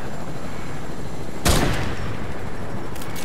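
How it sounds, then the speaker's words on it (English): One sharp Fortnite gunshot cracks out against a steady background hiss, followed by a few faint, distant pops. "I just shot randomly to see if I can get a kill real quick"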